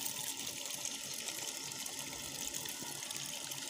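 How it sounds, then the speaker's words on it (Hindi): Water gushing steadily from a mosque's water pump motor line, a continuous broadband rush with weak pressure, close and unbroken throughout with no talking. "मोटर का पानी चेक करें भी अभी भी पानी कम आ रहा है"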